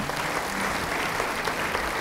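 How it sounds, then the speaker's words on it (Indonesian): A church congregation applauds during a sermon, a steady, dense wash of clapping from many hands that holds evenly throughout with no voices over it. "Yang percaya, beri tepuk tangan bagi Dia"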